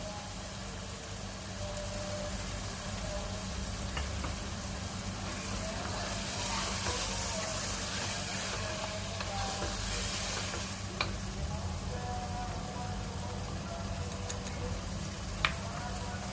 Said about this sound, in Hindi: दो 3 मिनट के लिए इसको भूनेंगे।